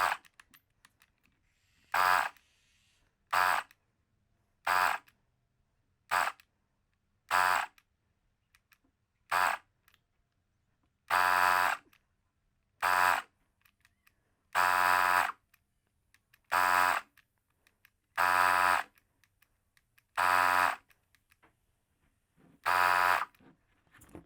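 A Makita 18-volt cordless inflator compressor pumping up a football runs in short repeated bursts, each a buzzing motor whine of about half a second to a second, separated by silent gaps, close and fairly loud.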